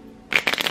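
Tarot cards being shuffled by hand, a brief burst of crisp papery riffling that starts after a short quiet pause and carries on in quick close flutters.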